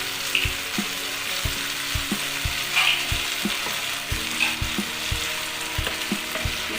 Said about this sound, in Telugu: దాన్ని ఇప్పుడు బాగా మిక్స్ చేసుకుందాం.